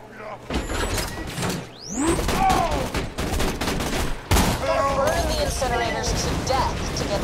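Loud, dense gunfire from Borderlands 2 co-op play, with bursts and rapid shots alongside mechanical clanks and sweeping game effects, continuous throughout with voices in the mix.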